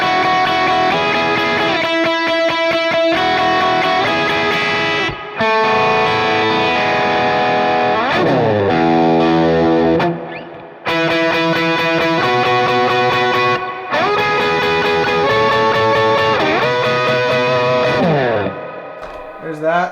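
A Telecaster electric guitar played through a pedalboard effect with distortion and chorus, giving a mid-range tone, loud strummed chords and bends with brief pauses between phrases, no talking.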